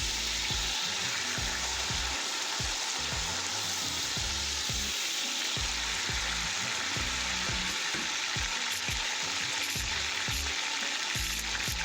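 Tomatoes drop into a Durban-style chicken curry and fry with a loud, continuous sizzle, broken by rhythmic scraping and clicking strokes of a spoon stirring the pan, with no voices.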